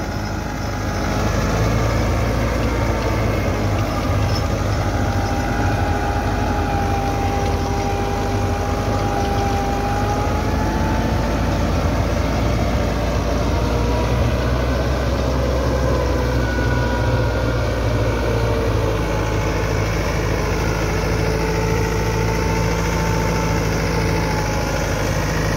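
Massey Ferguson 385 tractor, a 2021 model, running steadily with a rotavator while preparing a potato field in Punjab, Pakistan; a continuous low diesel drone, close and loud, with no talk.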